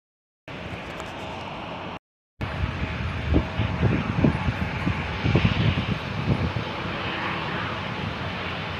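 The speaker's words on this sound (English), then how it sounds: "Just come out here, watch the planes" Airplane flying over LAX airport with a loud continuous engine roar, mixed with wind buffeting the microphone outdoors, after a brief cut near the start.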